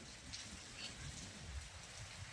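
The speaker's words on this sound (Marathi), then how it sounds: "सो इट्स रेनिंग इंटरमिटंटली, म्हणजेच पाऊस हा अधूनमधून येत आहे." Heavy monsoon rain falling intermittently in Redani, Indapur, Pune district, heard from a terrace as a dense, steady wash of drops on surfaces, continuous and fairly near, with no voices.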